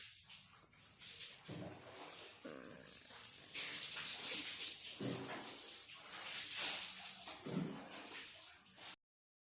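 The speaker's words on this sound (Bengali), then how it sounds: "কড়াটা একটু গরম হয়ে গেলে এর মধ্যে একটু জল দিয়ে দিচ্ছি" Water poured into a heated karahi gives a broad, rushing hiss that swells and fades in several uneven surges, with low splashy bursts beneath. The sound cuts off abruptly at the end.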